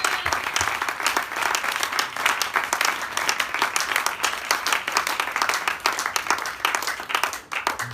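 A church congregation in Yaoundé claps and cheers for the Lord, a dense and continuous wave of applause from many hands. It stays loud and full for the whole stretch without a pause.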